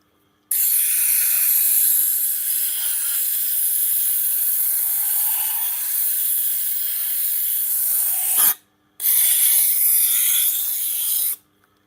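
A Japanese knife is stroked steadily along a whetstone, a continuous loud gritty rasp that runs unbroken for about eight seconds, stops briefly, then resumes for a few more seconds of the same grinding.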